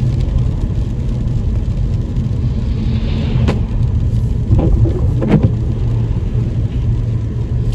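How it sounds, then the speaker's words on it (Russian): Rain falls on a moving car in Saint Petersburg, a steady low road and engine rumble inside the cabin with the soft patter of raindrops and a few sharper splashes or taps midway. "вот эти капельки дождя"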